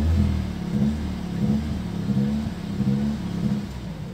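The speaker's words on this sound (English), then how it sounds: "you need to put your foot on the brake really hard, and then this is how you do launch control" An Audi S3 saloon's engine holds a steady, loud rev against the brake during launch control, a droning rumble sustained evenly for several seconds with no talking.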